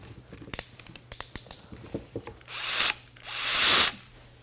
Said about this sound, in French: On va pouvoir également utiliser la machine pour percer dans le bois.